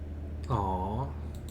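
A single short, tonal cat meow from the video game Kentucky Route Zero, Act 4, about half a second long, rising and falling over a low steady background hum.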